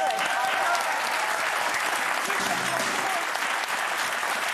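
A TV studio audience applauds steadily on a French talk show, a dense continuous clapping with a brief low voice heard faintly beneath it.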